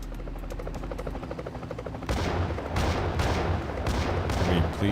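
A helicopter in the video game GTA Chinatown Wars whirs with a steady rotor drone, joined midway by dense, loud bursts of gunfire that continue to the end.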